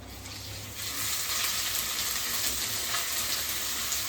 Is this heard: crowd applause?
no